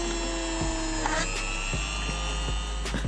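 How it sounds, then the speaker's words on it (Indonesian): A Yasuka YDG-135A mini die grinder drilling into PVC pipe, a steady high-pitched motor whine with repeated sharp grinding bursts as the bit bites, loud and close with no talking. "Lancar untuk pengeboran pipa PVC ya."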